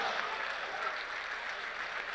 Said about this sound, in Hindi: यहाँ दुबई ने आज हरिओम जी के लिए तालियां बजाई हैं